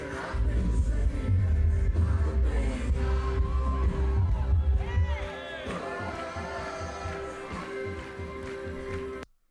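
Church congregation crowd track soloed in a Pro Tools live mix, a muffled wash of many voices with whoops and cheers, booming low rumble for the first half, then thinner crowd noise with someone talking over it.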